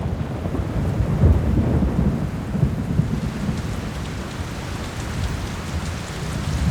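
Steady rain shower pours down with low rumbling thunder in the wilderness of Yellowstone, a dense, continuous wash of rainfall with a heavier rolling swell early on, fairly close and loud throughout.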